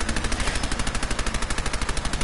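Rapid automatic fire from a high-recoil legendary weapon in a video game, a steady stream of loud, close shots at an even fast rhythm with no pauses.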